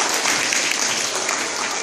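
Steady, dense applause from an audience at a Lent retreat gathering, loud and continuous for the whole short stretch.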